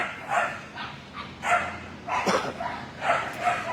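Dogs at an animal shelter barking in bursts, several yaps and woofs echoing from a moderate distance in a reverberant room, with low background noise and no clear talk.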